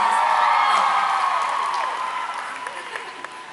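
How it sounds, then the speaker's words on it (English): Applause and cheering from a large crowd at a concert at Hammerstein Ballroom, loud at first and then gradually fading, with a few scattered whoops. "keep the applause going"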